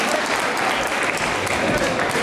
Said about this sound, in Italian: Abbiamo sentito un bel applauso